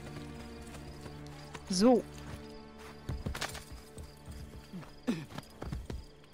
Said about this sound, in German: Rufen wir mal Pferdchen, dann kommen wir schneller voran.